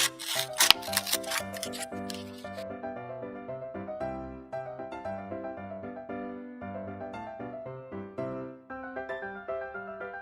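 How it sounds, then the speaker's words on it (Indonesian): Scissors snip through paper and plastic for a children's craft, with a quick run of sharp cuts followed by steady repeated snipping over about ten seconds, close and clear with no talking. "Setelah buat senter, kita gunting."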